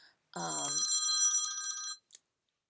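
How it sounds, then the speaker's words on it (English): A phone rings once with a clear electronic tone lasting about a second and a half, heard alone and close, followed by a brief click. "I cannot even believe my phone is ringing right now"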